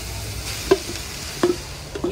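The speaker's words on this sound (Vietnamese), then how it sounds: "Cho hết phần cơm vào mình chiên nha các bạn." Cooked rice is fried in a hot pan with shallots, garlic and mild horn chili. There is a soft continuous sizzle, and three or four clanks of a spatula stir and scrape the rice.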